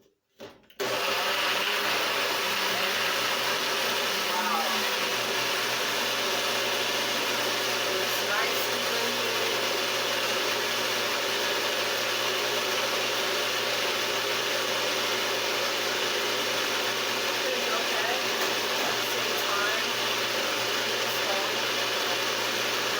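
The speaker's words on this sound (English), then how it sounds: "we're just going to blend this together really well" A blender whirring steadily as it purees white beans into a vegan ricotta, a loud continuous motor drone starting abruptly after a brief click and running unbroken to the end.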